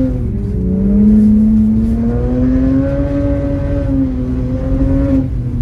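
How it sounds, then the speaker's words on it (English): A car drives past close by on an ice track, its engine note loud and steady, then rising and falling as it goes by. "Come here just to see the car driving past"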